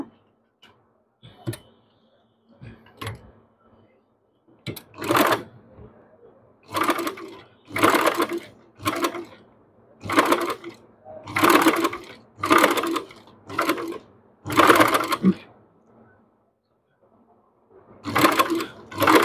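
A sewing machine runs in repeated bursts of rapid stitching, sewing gathers into cotton fabric for a baby frock, with short pauses between runs and no talking.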